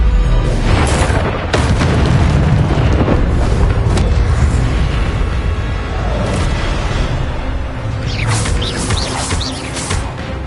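Spell combat in Hogwarts Legacy, with loud booming magical blasts, crashes and whooshing effects running continuously over a dense game soundscape, with brief swirling bursts near the end.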